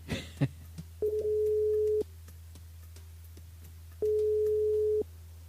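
Ringback tone of an outgoing mobile call to a phone that is switched on, two long steady electronic beeps about three seconds apart, clear and alone over a low hum.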